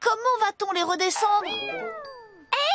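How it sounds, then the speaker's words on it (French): A cartoon cat gives a clear, drawn-out meow that falls in pitch, coming right after a character speaks; another voice cuts in at the end. "c'est le chat!"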